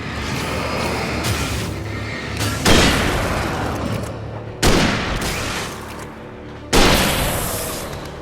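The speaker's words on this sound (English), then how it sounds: "Let's test out the rifle." Three loud rifle shots in Alan Wake ring out a couple of seconds apart in a quiet, eerie woods setting, each a sharp blast trailing into a long echoing decay.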